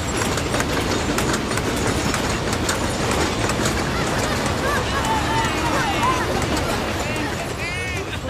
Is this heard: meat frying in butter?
no